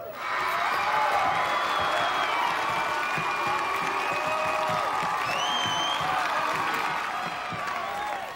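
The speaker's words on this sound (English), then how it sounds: "All right, now who's cheering for Wild Bill Harper?" A crowd in a gym cheers and applauds for Wild Bill Harper, a loud, steady mix of clapping and whoops. High voices shout over it for eight seconds, and it eases slightly near the end.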